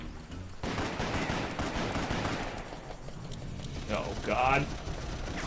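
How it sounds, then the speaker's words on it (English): Gatling gun in the Western shooter Call of Juarez firing in rapid, sustained mechanical bursts, loud and dense, with a man briefly exclaiming near the end. "Minigun? It's a Gatling gun."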